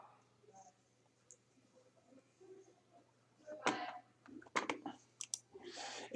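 A few sparse, light computer mouse clicks at a desk are spread across a quiet stretch, each one short and close.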